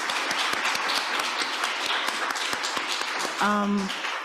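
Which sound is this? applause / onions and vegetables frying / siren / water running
applause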